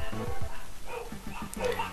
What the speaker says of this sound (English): And hopefully the dog's barking does not pick up on the mic.